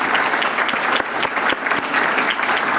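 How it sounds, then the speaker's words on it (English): Steady, dense applause from an audience at a scholarship honor brunch, continuous and fairly loud for a few seconds with no talk over it. "I'd like all the students that are receiving scholarships to please stand and allow us to thank you. Round of applause."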